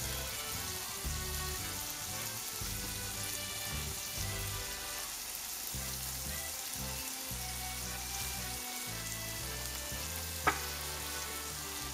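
Scallops sear in a hot frying pan with a steady, close sizzle that runs throughout, and one sharp tap near the end.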